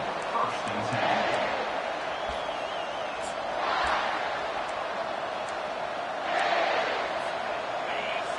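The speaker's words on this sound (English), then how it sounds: "This crowd trying to show them what it's going to be like all day in this house." Stadium crowd noise from NCAA 25 college football game, Kentucky at South Carolina, a steady roar that swells in waves beneath a commentator's play-by-play.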